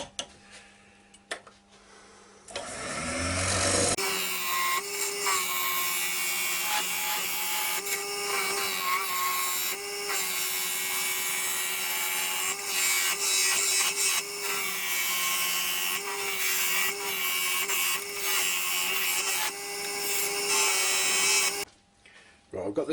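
A skew chisel cuts a tenon on ash wood spinning on a lathe, giving a steady, loud scraping hum with the motor tone running underneath for about twenty seconds before it stops.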